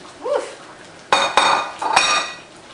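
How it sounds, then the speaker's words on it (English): Vegetables tipped into a pot of Panang curry, a few sharp clattering clinks and thumps against the metal pot, close and fairly loud, with quieter rustling between them. "We're going to put in the second set of vegetables."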